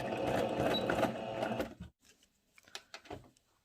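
A sewing machine stitches along the edge of a fabric tablecloth, using thread matched to the cloth's tone. The steady motor whir runs loudly for nearly two seconds, then stops, leaving a few short clicks and handling sounds.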